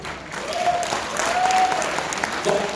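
A comedy-show audience applauds, loud and sustained clapping close in, with a voice briefly audible over the clapping.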